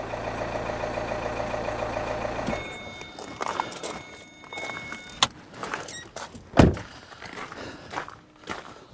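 A 2.2-litre diesel car engine, just jump-started with a 4000A booster pack, idles with a steady, rumbling hum, then cuts off abruptly, followed by scattered clunks and handling noises nearby.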